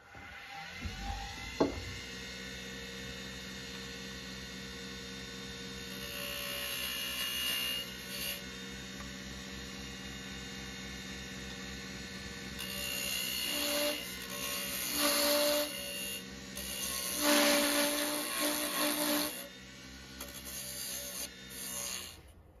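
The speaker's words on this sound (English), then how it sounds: "I'm going to reconfigure things a little bit here and turn the tenon on the bottom" A wood lathe turns a tenon on the base of a figured maple bud vase. A steady motor hum runs under intermittent raspy scraping bursts as the tool cuts, with louder, denser passes toward the end.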